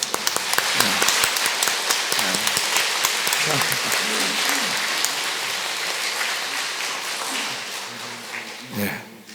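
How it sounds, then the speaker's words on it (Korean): A church congregation at a diocesan lay memorial day applauds honored guests, sustained rain-like clapping that fills the space, with voices under it and a short spoken burst near the end. "이분들이 박수 한번 쳐주세요."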